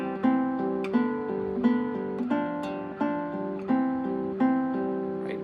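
Guitar chords for an Andantino ring out one by one, each struck cleanly and left to sustain in a slow, even rhythm, played alone and close with no talking.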